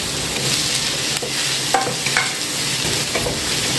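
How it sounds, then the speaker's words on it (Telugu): Paneer and potato curry stirred in a pan, a steady close scraping and sizzling with a few sharper knocks of the spoon, continuous and fairly loud, with no talk. "బాగా మిక్స్ చేయండి."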